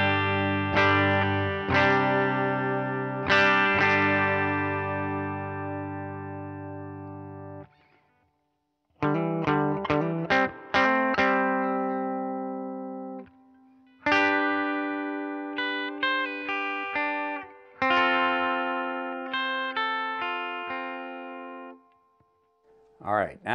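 Clean electric guitar chords and single notes from a WestCreek guitar on the bridge pickup ring out through an amp with only its light reverb, played in separate phrases with short pauses between them.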